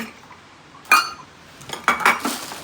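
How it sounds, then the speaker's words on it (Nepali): Metal pots and utensils being taken out in a home kitchen knock and clink together, a few separate clatters spaced apart with quiet gaps between them. "अनि भाँडा निकाल्दै हुनुहुन्छ उहाँ"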